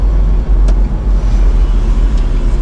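A Smart ForTwo on a test drive gives a loud, steady low engine and road drone from inside the cabin, with a couple of brief clicks and knocks over the constant rumble.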